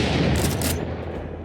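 Bots shooting in an Unreal Engine 4 game, a dense loud rattle of gunfire that thins out and fades toward the end of the short burst.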